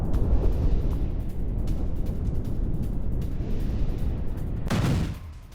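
Heavy explosions after a Russian air strike on Kherson: a continuous loud, rumbling roar of blasts with a sharper, brighter burst near the end before it cuts off.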